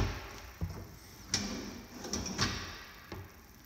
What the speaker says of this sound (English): Wood drawers.